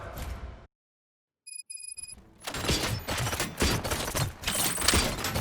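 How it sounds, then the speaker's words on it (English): Gunfire in the RoboCop: Rogue City video game: after a brief silence and a few mechanical clicks, a dense fusillade of loud, rapid shots erupts and continues to the end. "Gunshots? What's going on?"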